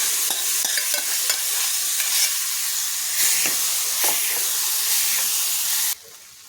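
Steamed green beans sautéed and stirred in a hot pan, a loud steady sizzle and hiss with scraping stir strokes throughout, cutting off abruptly near the end, with no voices.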